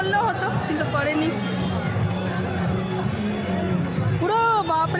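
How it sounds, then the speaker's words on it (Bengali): Constant murmur of a large crowd of devotees at Shri Shyam temple, many voices blending into a thick, close hubbub that holds steady from start to finish. "পুরো বাপরে রেলিং দিয়ে দিয়েছে, প্রচুর ভিড়।"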